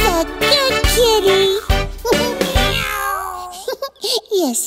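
Singing voices imitate a kitten meowing in a children's nursery rhyme, a quick string of melodic meows set over a bouncy music backing, loud and close.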